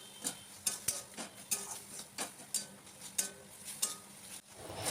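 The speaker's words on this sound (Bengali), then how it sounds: "সামান্য জল অ্যাড করব আর মশলা কষিয়ে নেব।" Spice masala with a splash of water being stirred and cooked down in a pan, quiet and close, with a regular rhythm of about a dozen sharp spoon scrapes and clicks over a soft simmering sizzle.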